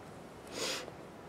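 A single short sniffle, quick and fairly soft, against a quiet background.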